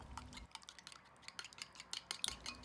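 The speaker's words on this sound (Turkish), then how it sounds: "Bir yemek kaşığı da yoğurt ekleyip iyice çırpacağım." Egg, olive oil and yogurt whisked in a bowl for a buttery milk pide topping: quick uneven clinks and scrapes of utensil against the bowl, close and fairly quiet, with no talking.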